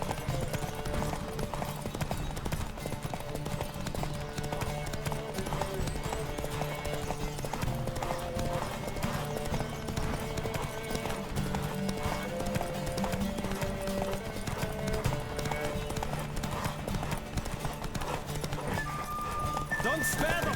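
A horse galloping in a race in the video game The Witcher 3 gives steady, rapid clip-clopping hooves and an occasional whinny throughout, mixed with music and voices.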